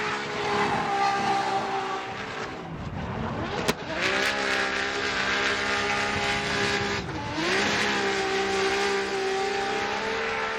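Drift car launching from the start line at a championship event, a loud, sustained engine roar with rising revs and gear changes, heard at moderate distance with crowd and track ambience behind it.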